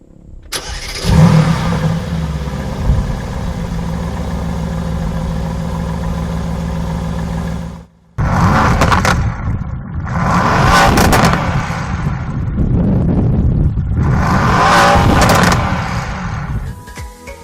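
A 2016 Mercedes-AMG GT S, a 510 hp sports car, starts up with a loud bark and settles into a steady idle. After a short break, it revs hard several times in long, loud bursts, heard alone close by.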